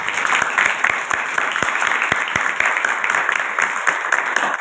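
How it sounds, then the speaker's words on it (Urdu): Loud, sustained applause from a large audience in a hall, dense steady clapping with a few sharper nearby claps standing out, no speech over it. "میں چاہتا ہوں ذرا آپ نے پاسبان کے لیے زوردار تالی"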